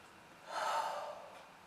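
A slow, deep inhale during a stretching exercise, one soft airy breath swelling and fading, close but quiet, with no talking over it.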